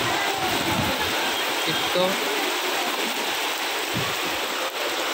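Steady rain pours down in a North Bengal town during the monsoon, soaking benches and flooding shop fronts, a dense continuous hiss across the whole stretch, with a few brief spoken words in the middle.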